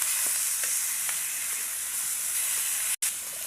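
Floured katla fish pieces frying in hot oil, a continuous bright sizzle and crackle close up with a few faint taps, briefly cut to silence near the end, no talking.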